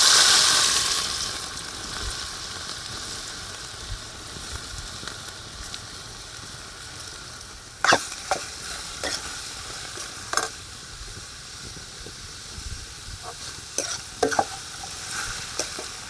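Raisins and cashews sizzle steadily in hot oil for a bottle gourd halwa, a continuous frying hiss with scattered stirring clicks and scrapes throughout, close and moderately loud, with no voices.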